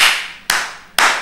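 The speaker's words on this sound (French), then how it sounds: "Applaudissons," A church congregation claps in unison during a French-language exhortation, three loud, sharp group claps evenly spaced about half a second apart, each trailing off into a short hall reverberation.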